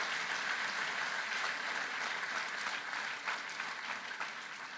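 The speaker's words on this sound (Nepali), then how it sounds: "Give a good clap to Minu Tamang" An audience at a Christian camp meeting claps together in a steady, sustained wash of applause that fades only slightly over a few seconds.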